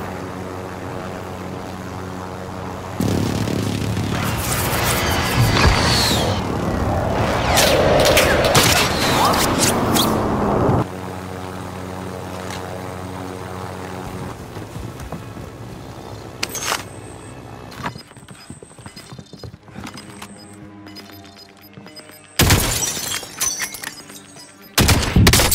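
A precision airstrike in a first-person shooter: loud roaring aircraft passes and heavy explosive rumble, followed by scattered gunshots and mechanical clanks, with a sharp loud burst near the end.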